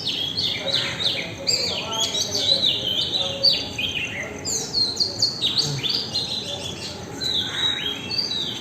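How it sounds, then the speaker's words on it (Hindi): Many small birds chirp and tweet continuously from village trees at morning in high, overlapping calls, a lively outdoor chorus with a faint background hum. "जो हमारे यहाँ पर पेड़ हैं उस पर चिड़ियाएँ बैठती हैं रात के टाइम में, और उनकी आवाज़ सुनकर"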